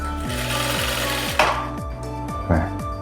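A Zoje A6000-P-D semi-automatic industrial sewing machine stitches a straight seam, its motor humming steadily while the needle chatters in a fast repeating rhythm, with two brief louder clacks close by.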